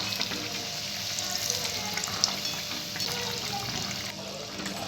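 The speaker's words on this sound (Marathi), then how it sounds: "आता आपण हे व्यवस्थित तळून घ्यायचंय आहे तळून घेऊया" Bread pakoda deep-fries in hot oil, giving a steady, dense crackling sizzle that holds evenly throughout.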